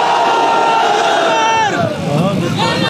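A large crowd roars a loud chanted response to a religious slogan at a rally, a sustained mass of voices filling about three seconds before cutting off abruptly.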